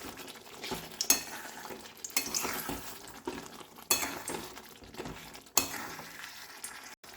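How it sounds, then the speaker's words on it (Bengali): Sugar stirred into small new potatoes in a pan for a Bengali no-onion, no-garlic dum aloo, with a steady scraping and sizzling texture broken by a few sharp clinks of the spoon against the pan, close and moderately loud. "এতে আমি এবারে 2 চা চামচ মতো চিনি দিয়ে দিচ্ছি, একটু নেড়ে মিশিয়ে নিলাম।"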